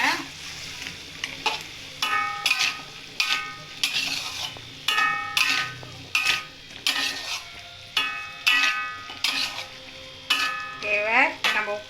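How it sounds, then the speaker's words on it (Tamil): Pumpkin pieces coated in turmeric and chili powder are stirred in a pan in repeated scraping strokes, each swish rising and falling in a steady rhythm over a soft background sizzle. "சேர்த்துட்டு நல்லா கிண்டி விடுங்க"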